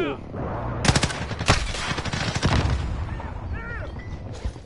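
Automatic gunfire in the video game Warzone, several sharp bursts and rapid volleys crackling at mid distance over a steady background, with a voice talking in between.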